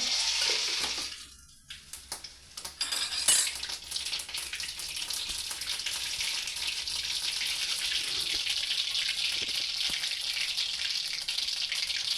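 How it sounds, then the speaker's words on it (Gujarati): Mustard seeds drop into hot oil in a pan, tempering for jowar dhokla. There is a short dip, then a strong, continuous close-up sizzle with faint crackles that carries on steadily. "તેલ આવી ગયું છે તો હવે આપણે રાઈ નાખી દેવાનું છે"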